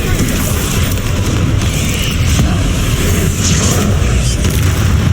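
Bombarda and Confringo spell explosions in the Hogwarts Legacy video game, dense, loud booming blasts that rumble without a break, with faint voices mixed into the din.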